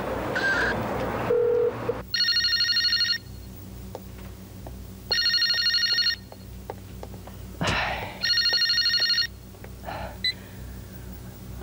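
A telephone rings in repeated double bursts with steady pauses between them, fairly clear and close, while faint background noises and brief knocks are heard under it.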